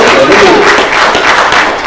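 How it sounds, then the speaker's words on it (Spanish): A church congregation applauds loudly and steadily for about two seconds, a dense wash of claps with voices mixed into the crowd noise. "Denle un aplauso, pero fuerte a Dios"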